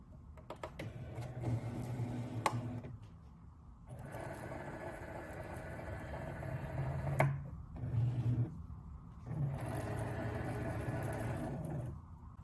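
Cricut cutting machine pulling in a vinyl-loaded mat and measuring it, with bursts of motorized whirring and clicking separated by short pauses, close and steady.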